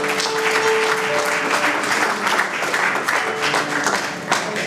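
A congregation at a church vigil for a deceased man breaks into sustained, loud applause and cheering acclaiming the Lord, a dense crowd sound filling the room without pause.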